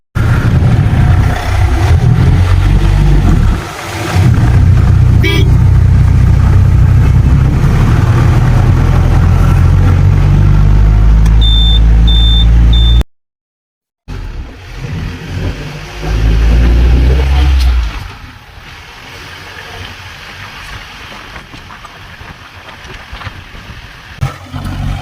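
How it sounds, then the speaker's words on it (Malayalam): A Mahindra Classic 4x4 jeep engine starts and runs with a loud, deep rumble that rises and falls, cuts out briefly, then idles on at a lower, steadier level. "ഇതാണ് ഇതിൻ്റെ എൻജിൻ സൗണ്ട്."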